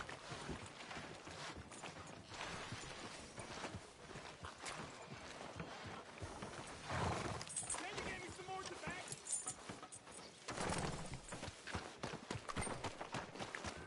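A horse's hooves clip-clop steadily along a town street in Red Dead Redemption 2, moderately loud under spoken dialogue and background ambience.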